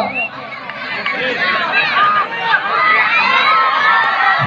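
Crowd noise at a village sports match, Melmanahatti versus Mekhali, with a loud, sustained roar of cheering, shouting and excited voices that carries through the whole stretch.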